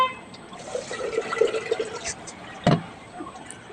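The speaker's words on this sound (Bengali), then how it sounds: "চাল ধুয়ে দিচ্ছি" Water sloshes and splashes in short bursts as rice is washed by hand in a home kitchen, with a brief sharp knock of the pot near the end.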